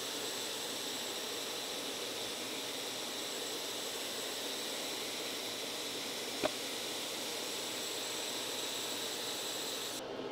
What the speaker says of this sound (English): Finally, I'll use a 1/32 inch bit with no offset to give the line its final pass.